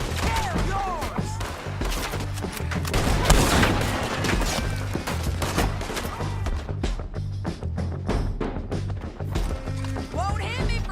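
Gunfire in the video game Red Dead Redemption 2, a dense, loud volley of shots cracking in rapid irregular bursts over a rumbling backdrop, with voices shouting among the shots.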